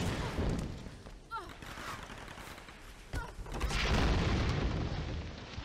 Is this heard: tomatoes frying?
no